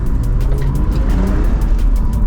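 BMW Z4 roadster after rear quarter, door and boot repair, driving with a steady close engine and road drone, no clear speech.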